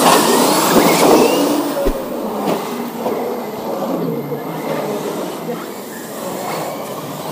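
A radio-controlled RC Monster 8 monster truck drives hard, making a loud, continuous rough whir and rumble with scraping texture throughout and no clear speech.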